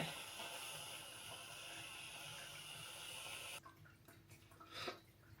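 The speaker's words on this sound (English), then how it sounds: "And I did just rinse the nozzle." A whipped cream nozzle is rinsed under a running kitchen tap with a close, steady hiss of water for about three and a half seconds, then the flow cuts off, leaving a few faint handling sounds.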